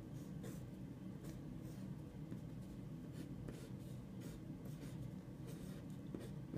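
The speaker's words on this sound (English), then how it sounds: "I take out my pencil and I write my name" A pencil scratches across paper as a name is written out in a steady, close run of small strokes, with no voices over it.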